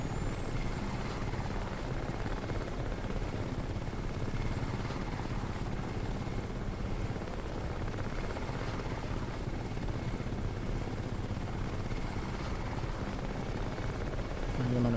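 A helicopter in the video game Crysis Remastered drones loudly and continuously, its steady rotor thrum filling the whole stretch without pause or change in distance.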